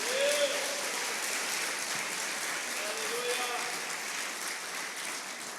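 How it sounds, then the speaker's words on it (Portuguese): Congregation applause at a Portuguese-language family celebration church service, an even spread of clapping at moderate level, with a few voices rising faintly within it. "Dê um aplauso ao Senhor"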